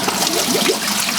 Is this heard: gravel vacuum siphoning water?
yes